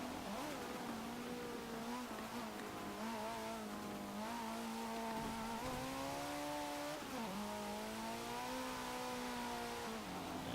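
A 2013 Mercedes-Benz A 45 AMG engine in the racing game Forza Motorsport 7, a continuous buzzing whine rising through the gears with brief drops at each shift, heard alone at low level.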